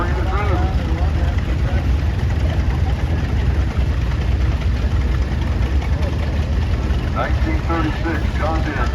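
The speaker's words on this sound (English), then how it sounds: "This is a 1963 Case 930, James Vonderbach, Ashley and Jocelyn" A 1963 Case 930 tractor engine runs at a tractor parade at a threshing show in Mason, Michigan, a steady low chugging drone throughout, with a public-address voice talking over it.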